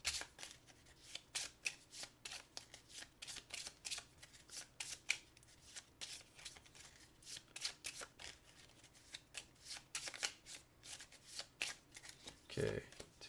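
Cards from the Giant Killer Robots board game being shuffled, a quick run of crisp riffling snaps and flutters close by, repeated in bursts with short pauses between them, and no talking over the shuffle.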